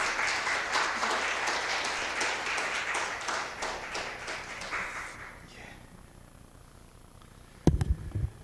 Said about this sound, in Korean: 모두 큰 박수로 환영 부탁드릴게요.